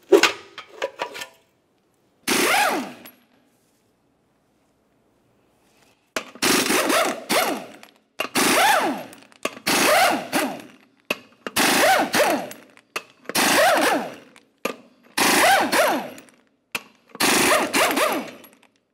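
An impact wrench rattles off 24mm lug nuts on a 1994-2002 Dodge Ram 2500, with about nine loud, close bursts of hammering, each a second or so long, separated by short silences.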